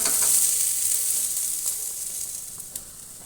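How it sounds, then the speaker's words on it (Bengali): Cauliflower florets fry lightly in hot oil, giving a steady bright sizzle that is loudest at first and eases slightly, with a few soft clicks of stirring. "ফুলকপিগুলো আমি দেখুন হালকা করে ভেজে নিয়েছি।"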